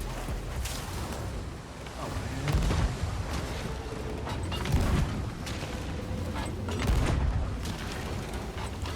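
Cannon fire in the Sea of Thieves pirate game lands as three deep booms roughly two seconds apart, over a busy bed of sea and ship noise and scattered clatter.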